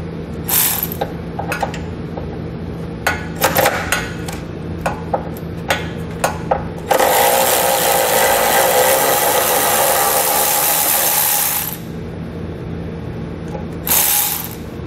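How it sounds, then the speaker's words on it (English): A hand ratchet with a 13mm socket and extension backs out an exhaust hanger bolt on a 2014 Chrysler Town and Country, loud close clicking in short bursts, then a long steady run of rapid ratcheting before stopping. "We want to grab a 13mm socket, and an extension will help you reach it, and we'll pull that bolt out so our exhaust can come down."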